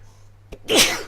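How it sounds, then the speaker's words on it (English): One loud sneeze close up, with a quick intake of breath just before the explosive burst. "Gotta get those sneezes out."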